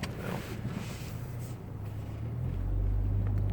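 A tuned car engine that should crackle on deceleration instead gives a low, rough exhaust rumble with no pops, growing slightly deeper and louder toward the end, with some wind noise.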